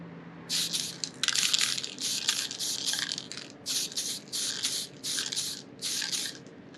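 A spray can sprays white paint onto a miniature from a short distance, a series of hissing bursts, each about half a second long, repeated in a steady stop-start rhythm with brief pauses between them.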